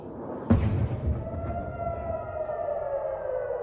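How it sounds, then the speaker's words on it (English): An air raid siren wails over Tel Aviv during a missile attack, its rising and falling tone sustained after a sharp thud-like impact near the start, loud and continuous without speech. "The air raid sirens were still sounding in Tel Aviv when a missile hit."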